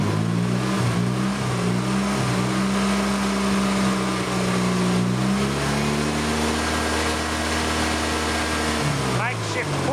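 A vehicle engine running in fourth gear drives a PTO welder through a makeshift pulley, giving a loud, steady mid-pitched drone with shifting harmonic tones that rises slightly toward the end, with a voice heard over it.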